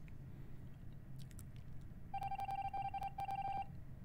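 A phone keypad sounds a quick run of about a dozen dial beeps over a quiet, low background hum. The beeps come in two close bursts.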